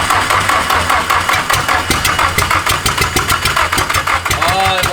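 A Nissan-swapped Mazda Miata engine fires up for the first time, running loud and close with a rough, uneven idle and rhythmic pulsing throughout.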